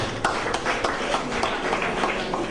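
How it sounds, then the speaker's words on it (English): An audience claps for a young reader at a readership campaign event, with steady scattered hand claps that continue for a few seconds. "Let's clap for him."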